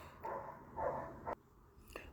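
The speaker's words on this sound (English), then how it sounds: "my neighbor's dog's barking" A neighbor's dog barks three times from a distance, short muffled bursts spaced about half a second apart, followed by a fainter fourth bark, all faint and somewhat far off.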